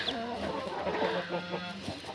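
Chicks cheep continuously up close, their high calls overlapping and blending with soft clucking from a hen, as chicks peck out of their shells and hatch.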